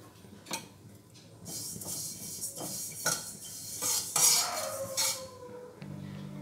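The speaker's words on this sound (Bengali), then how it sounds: "তিলটা রোস্ট করা হয়ে গেছে" White sesame seeds dry-roasting in a kadai, stirred with a utensil that scrapes and clinks against the metal in uneven bursts, close and moderately loud, with no talking.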